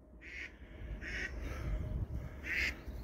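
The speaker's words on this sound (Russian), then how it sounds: "ну где-то кричат гуси" Waterfowl calling outdoors at a morning hunt, a few nasal honking calls repeating roughly every second over low wind rumble, moderately distant.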